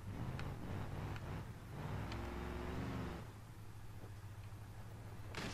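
Off-road 4x4 engine labouring up a steep hill in BeamNG Drive, a low rumbling motor that rises in a brief revving whine midway, then settles back to a steady drone with a small knock at the end.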